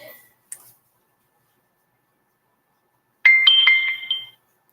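A phone notification chimes alone in near silence: a short bright tick at the start, then a clear ringing tone sequence of a few notes that rings out and stops.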